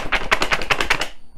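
A box of cards shaken hard in a rapid burst of about six loud rattling knocks, close and alone, then a quick stop.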